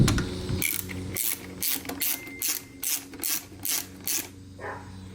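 A ratchet tightens carburetor bolts on a Yamaha Virago motorcycle, with close, rhythmic bursts of sharp clicking repeating about every half second.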